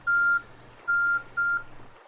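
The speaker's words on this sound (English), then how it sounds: "oh, there's the timer." A timer beeps three times, steady electronic tones with the first two longer and the last shorter, clear and fairly loud over faint background hum.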